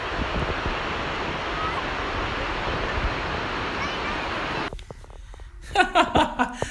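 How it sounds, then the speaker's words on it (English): Dense roar of the Gullfoss waterfall in Iceland's Golden Circle, loud and constant with wind buffeting, cutting out abruptly near the end where quieter rustling and handling sounds take over. "it's the Gullfoss waterfalls, which are just behind us here"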